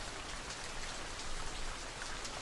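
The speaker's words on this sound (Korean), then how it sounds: "빗소리를 들어도" Steady rain falls, a soft even hiss of raindrops on a surface with no other sounds, in a whispered ASMR setting.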